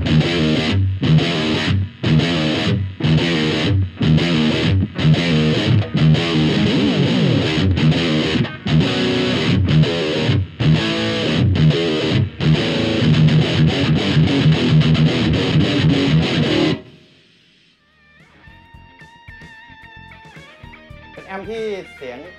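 An electric guitar played through a Bullet BT-45R amp with distortion chugs loud, crunchy riffs for about seventeen seconds before dropping to a faint, quieter tail.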